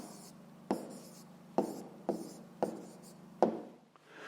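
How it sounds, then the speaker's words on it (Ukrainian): A pen writing an answer by hand on paper gives a series of close scratching strokes, about six short bursts separated by brief pauses, in a quiet room with no speech. "Пишемо відповідь."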